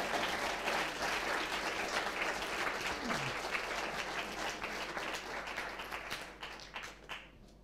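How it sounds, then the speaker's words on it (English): Audience applause following a science talk at a Science & Cocktails bar event, a dense sustained crowd clapping that carries steadily throughout and thins slightly toward the end. "So another applause for Søren Brunak, please."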